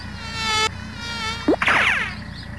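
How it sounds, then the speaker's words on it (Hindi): Mosquitoes buzz close by in a high, thin whine that holds steadily, then breaks into several wavering, sweeping drones near the end, with no talking. "ओह यार मच्छर बहुत उड़ रहे हैं"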